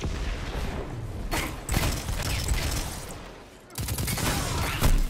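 Gunfire in the video game Destiny 2 on Xbox One: dense, continuous bursts of shots with brief gaps, loud and close, with no voices.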